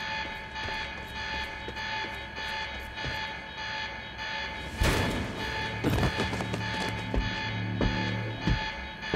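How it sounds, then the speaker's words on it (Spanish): An alarm rings in the Quantum Break video game as a steady electronic tone that holds throughout, with a burst of loud crashing noise in the middle and scattered thumps toward the end. "Esa alarma no me facilitará la vida."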